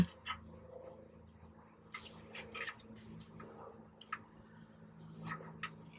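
Diesel fuel draining from a Cummins 6.7L fuel filter housing on a RAM truck into a cup, heard as faint, irregular drips and small liquid splashes against a low background hum, with no talking.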